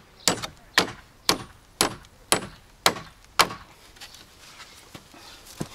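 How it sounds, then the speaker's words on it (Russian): A hammer drives nails into wooden pallets being joined into a sofa outdoors in a garden, seven sharp, evenly spaced blows ringing out close and loud, followed by a few faint taps. "В общем, решили еще приколотить, чтобы никуда они не ерзали, нижний к верхнему"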